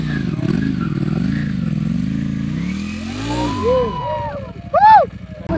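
A classic motorcycle engine rumbles close by at a car and bike show in Thane, its pitch wobbling as it revs up and down, with a few short whistling tones near the end.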